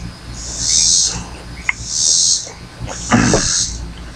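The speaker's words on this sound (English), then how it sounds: "I hear an old cicada up there in the tree. Doing his ring." A cicada rings from a tree in the woods, three evenly spaced buzzing bursts about a second long each, bright and fairly close, with a thump and faint rustle between them.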